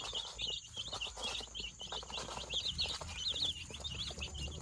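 A brood of young chicks in a netted pen, being given turmeric water and grain: continuous high, rapid peeping and cheeping from several birds close by, busy and overlapping, with no talking.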